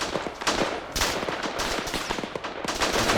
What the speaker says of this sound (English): I started to return fire.